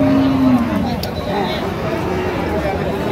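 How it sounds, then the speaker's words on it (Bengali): A cow with her calf at a busy cattle market, a short low moo rising near the start amid steady crowd noise, with people talking throughout. "সুন্দর গাভী বাছুর আমরা দেখছিলাম"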